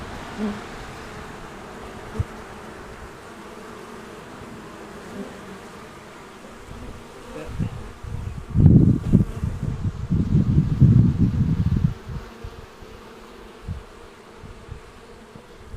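Honey bees hum at a vented beehive outdoors, a steady close buzz with individual bees swelling louder as they fly past the microphone, alongside faint wind.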